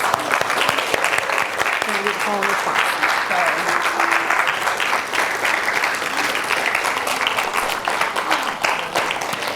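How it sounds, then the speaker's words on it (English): Congregation applauding during a church Passage Ways ceremony, sustained dense clapping for several seconds with voices and brief calls mixed in beneath it. "yes, let's do applause"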